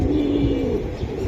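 Pigeons for sale at a bustling pigeon market give a dense, loud run of throaty cooing against a busy crowd hum, all packed into a brief moment.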